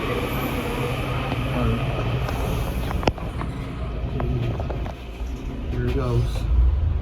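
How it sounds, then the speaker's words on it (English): An airport train departs at Ronald Reagan Washington National Airport in Arlington, its steady rail rumble and rolling wheels loud and close, with a sharp click partway through. "Here goes the train, as you can see here."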